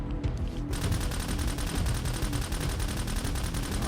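Full-auto gunfire in the zombie shooter SurrounDead, a rapid, steady stream of shots hammering on without a break after a short quieter lead-in, loud and close, with no voices over it.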